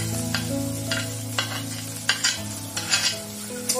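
Onion with curry leaves, green chili and ginger sautés in a pan. A soft steady sizzle runs under repeated scraping stirs from a spoon, heard close and moderately loud, with no speech.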